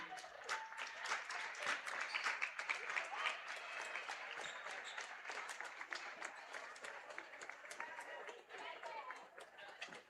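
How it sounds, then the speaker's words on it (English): A crowd in a high school gym claps and cheers as youth girls basketball players are welcomed onto the court at a Cuba City game, steady dense applause with an announcer's voice running over it. "Let's have a round of applause for them."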